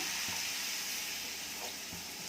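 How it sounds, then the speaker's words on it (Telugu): Water poured into a pan of spice-fried vegetables for a saagu curry, a soft steady hiss and gurgle with light sizzling, close and fairly quiet, with no talking. "ఈ కాయగూరలంతా మునిగేంత వరకు వాటర్ వేస్తాము."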